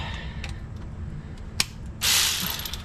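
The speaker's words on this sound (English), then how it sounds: "Got my electric ratchet." An electric ratchet spins a 17 mm bolt on an ICT billet part during an LS twin disc clutch upgrade, giving a steady close mechanical whir with a sharp click near the middle and a louder, brighter burst toward the end.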